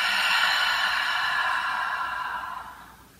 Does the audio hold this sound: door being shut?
no